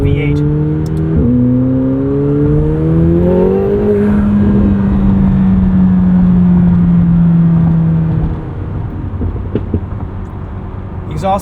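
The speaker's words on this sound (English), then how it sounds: "Whatever exhaust tweaking they did to the 750S is definitely a more exotic supercar sound" A deep McLaren 750S V8 exhaust rumbles loudly up through the revs, pitch climbing then holding steady before dropping off, with a few crackles near the end.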